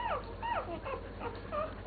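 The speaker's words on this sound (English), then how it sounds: "So here we have all the puppies" One-week-old puppies whimpering in a litter, a run of high, wavering whines that rise and fall in quick succession, close by and steady, with no talking.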